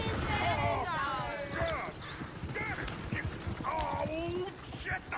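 Horse hooves clip-clopping in Red Dead Redemption 2, a faint rhythmic trot under loud, overlapping talk, with a horse whinnying in the mix.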